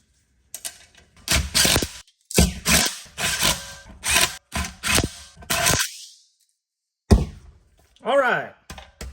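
Clutch parts (flywheel, disc and pressure plate) are clamped back together, a series of close metallic clanks, thunks and ratcheting clicks in separate bursts with silent gaps between them.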